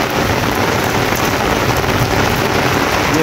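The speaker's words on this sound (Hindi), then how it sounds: "छम छम बारिश" Heavy rain pours steadily during a thunderstorm at night, with lightning and an all-night storm, a dense, continuous hiss of drops hitting surfaces and trees, loud and close throughout with no voices.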